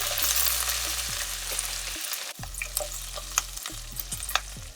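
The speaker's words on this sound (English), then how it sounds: "and the curry leaves. The green chilies as well." Curry leaves, green chilies and cumin seeds fry in hot oil for sabudana khichdi, giving a close crackling sizzle with brief pauses and a few sharp pops and stirring scrapes.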